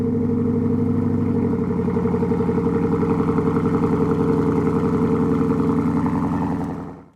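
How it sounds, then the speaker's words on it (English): A 2013 Mustang GT V8, freshly rebuilt, settles into a cold-start idle with a steady, loud, lumpy rumble that holds even, then cuts off abruptly at the end. "Let's do a cold start."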